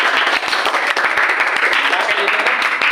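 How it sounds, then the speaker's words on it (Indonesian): A classroom of students gives a round of applause for a presenting group, with dense, steady clapping that fills the whole moment and voices mixing in, close and loud. "Kita kasih lagi satu tepuk tangan untuk kelompok 1."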